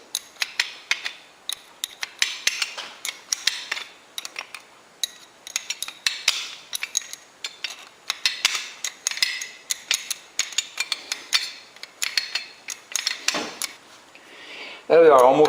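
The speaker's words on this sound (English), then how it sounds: "So now we'll just take this wrench and tighten it up." A wrench clicks in quick, rhythmic bursts while tightening a cylinder on a Cub Cadet 1650 four-wheel-drive tractor being built, the metallic ratcheting close and fairly crisp, ending in a brief louder clunk.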